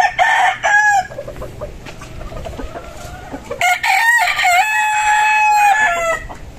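Chickens and roosters in a breeding pen cluck steadily while a rooster crows loudly up close, with several bursts of calls overlapping throughout.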